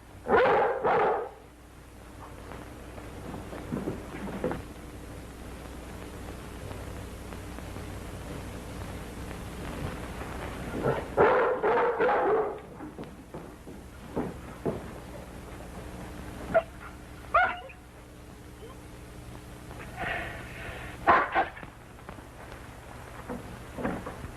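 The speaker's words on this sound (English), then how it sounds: "Maybe the dog has scented something." A dog barks in several short bursts spread out over the scene, moderately loud above a constant hiss, with quiet gaps between the volleys and no talk.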